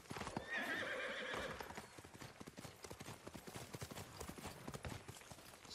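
A horse whinnies loudly near the start in Ghost of Tsushima, followed by a run of rhythmic hoofbeats clopping at a steady pace.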